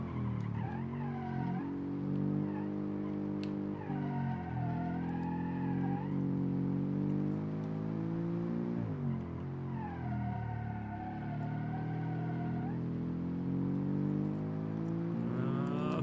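Virtual race car in BeamNG.drive with a sequential gearbox, engine revving in rising sweeps that drop sharply at each quick upshift, repeated several times, loud and close with no voices.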